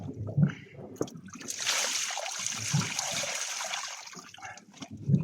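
Water sloshes and pours from a bucket over a caught tope shark, a steady trickling splash lasting a few seconds with a few thumps at either end.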